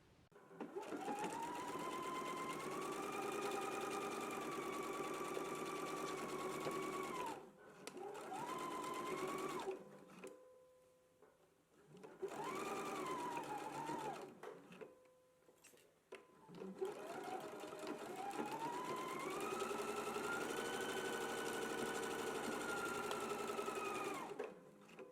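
A sewing machine stitches a garment seam in several bursts, whirring steadily for seconds at a time with brief pauses between runs, close up and fairly quiet, with no talking.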